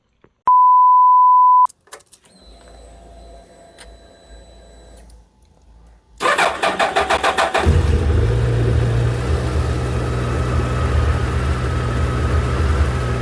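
A Suzuki Hayabusa motorcycle fitted with straight-pipe exhausts is started after a beep and a rapid starter crank, catching into a loud, raw idle that stays up close and steady.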